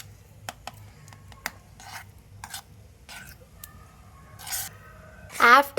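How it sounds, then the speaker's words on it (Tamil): Mini kesari, a semolina sweet, stirred in a miniature pan: soft scattered scrapes and taps of a tiny spoon, quiet and close, with a louder scraping swirl near the end. "ஸோ நல்லாவே கிண்டி விட்டுக்கலாம்."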